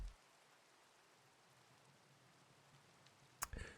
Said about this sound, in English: Rain, can't see anything.